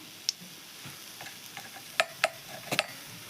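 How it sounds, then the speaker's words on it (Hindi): Mustard seeds spluttering in hot oil for a saag: a handful of sharp, scattered pops and crackles over a soft, steady background sizzle, up close and with no talking. "सुरसो चूड़े फुटेन दे दोछे"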